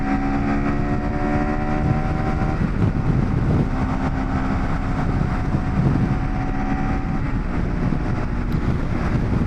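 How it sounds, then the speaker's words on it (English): A KTM 390 Adventure R motorcycle accelerating past 80 mph on a freeway into a strong headwind, with a steady, droning single-cylinder engine note heard up close under a heavy, constant roar of wind. "the bike still has power to accelerate past 80 miles an hour"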